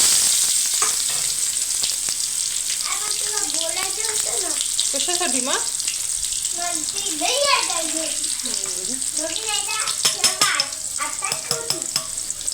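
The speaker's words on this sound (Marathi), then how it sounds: "कढईमध्ये तेल टाकलं, जिरं मोहरी छान तडतडू दिली आणि नंतर टाकला त्याच्यामध्ये कांदा" Chopped onion sizzles in a kadai of hot oil with tempered cumin and mustard seeds, a constant close hiss with occasional stirring scrapes, while people talk over the cooking throughout.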